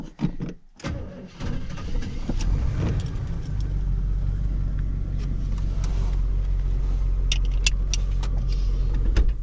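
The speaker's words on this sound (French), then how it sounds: "j'entends maintenant assez distinctement le bruit d'un roulement qui commence à donner des signes de faiblesse" A 1977 Chevrolet Caprice starts up and drives, its engine rumble steady and loud beneath a faint whirring from a worn bearing, with a few clicks and ticks over the top.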